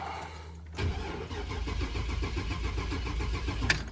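A 2000 Chevy Express van engine cranking over with a steady, rhythmic starter churn, loud and close, running continuously after a brief quiet start, with no voices.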